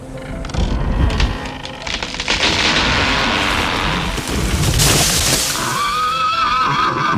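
A cartoon horse whinnies loudly in a children's animated film about cars on a windy road, a long neigh over rumbling booms and crashing effects.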